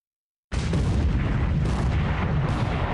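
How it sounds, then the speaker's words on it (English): A battleship blows up a tanker in a naval wargame. After a moment of silence, a sudden loud blast breaks into a sustained, dense roar of explosions that rumbles on without a break. "Battleship's blowing up a tanker."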